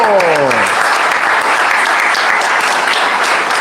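Loud, dense applause from a school reunion audience at an evening reception, continuous clapping throughout, with a brief voice trailing off at the very start.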